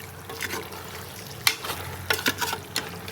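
Mutton pieces cooking in a pan over a low flame for a Malvani mutton curry, giving a soft steady sizzle with a few sharper bursts and stirring clicks, moderately close and with no talk.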